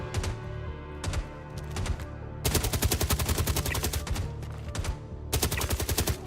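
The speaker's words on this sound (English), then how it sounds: "I think there's an NPC up here shooting at him" Bursts of gunfire from an NPC in the video game Star Citizen: a few short volleys early on, then long rapid automatic strings of sharp shots, fairly loud and close, with no talking.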